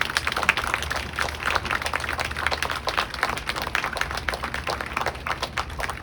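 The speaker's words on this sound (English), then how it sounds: "Let us offer a round of applause to these individuals with us today as a show of appreciation and support." Audience at a Coast Guard sunset parade at Training Center Cape May applauding, a dense steady wash of many hands clapping throughout, moderately loud and spread across an outdoor crowd.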